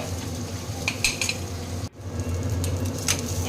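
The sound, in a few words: frying peeled small onions in oil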